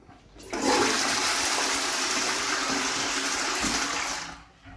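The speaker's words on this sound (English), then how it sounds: "So I will flush." A toilet flushes loudly and close by, a steady rushing of water that holds for several seconds before quickly tapering off.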